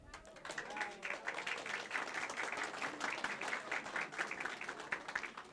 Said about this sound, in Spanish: yo creo que deberían darle un aplauso.